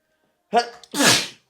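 A single sharp human sneeze, close and loud, with a brief inhale buildup followed by an explosive burst of breath.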